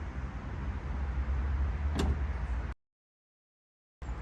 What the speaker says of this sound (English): Now all I'll do is press this switch, and that can close the tailgate.